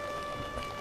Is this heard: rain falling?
yes